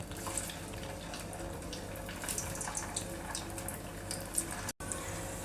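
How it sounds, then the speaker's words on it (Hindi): Veg spring rolls deep frying in hot oil, a steady dense sizzle and crackle with scattered sharper pops, continuous and close throughout. "तेल गर्म हो गया है तो अब इसमें हम रोल को डालेंगे और क्रिस्प होने तक फ्राई करेंगे।"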